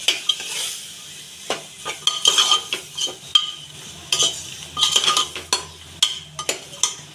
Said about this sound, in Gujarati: બધા મસાલાને આપણે હલાવી લઈશું